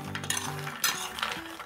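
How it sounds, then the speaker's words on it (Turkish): A spoon scrapes and clinks while stirring peanuts roasting in a tray, short close metallic scraping strokes over a low steady hum. "Şimdi bunu kaşık yardımıyla karıştırıyorum."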